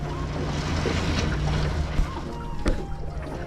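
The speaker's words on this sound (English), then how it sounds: "On a boat. On the Rio Grande." Engine drone of a small boat on the Rio Grande under wind buffeting and water splashing, with a couple of brief knocks, close to the microphone.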